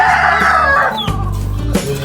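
A chicken crows loudly at close range in a Philippine village yard, the long call trailing off, then a short clucking burst follows as the bird settles.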